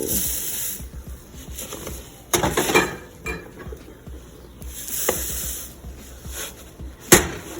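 Rice Krispies are stirred into melted Mars bars in a pot on the stove, a sticky scraping and rustling with a few sharper spoon knocks against the pot, fairly close and without talk.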